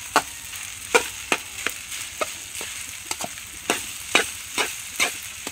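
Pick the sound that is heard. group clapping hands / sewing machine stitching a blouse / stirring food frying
stirring food frying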